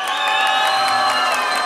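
Crowd at a bull riding tournament cheering and whooping in a steady, dense roar of voices, with a scatter of applause mixed through it throughout.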